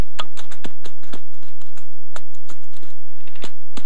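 Deer hoof steps on the ground imitated while horn rattling for whitetail deer hunting, a series of sharp irregular taps and thumps, close and fairly loud, with no talking.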